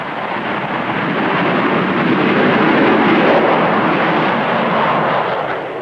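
A Grumman F-14 swing-wing fighter jet roars past, a loud, broad, rushing engine noise that swells slightly in the middle and holds steady for several seconds without any voices.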